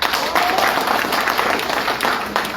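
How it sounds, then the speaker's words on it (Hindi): An audience at a DXN leaders' gathering in a hotel in Dammam, Saudi Arabia claps loudly for the company's founder, a dense burst of applause that holds steady throughout with no talking over it. "DXN का फाउंडर दातुक डॉक्टर लीम सियो जी के लिए ताली हो जाए"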